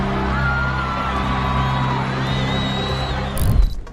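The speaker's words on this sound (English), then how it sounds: "The crowd roared." A huge stadium crowd at the Super Bowl halftime show starring Michael Jackson roars and cheers, a loud, steady wash of voices with whoops and whistling cries rising above it.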